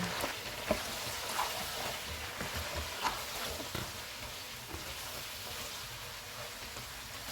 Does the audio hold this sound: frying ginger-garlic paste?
yes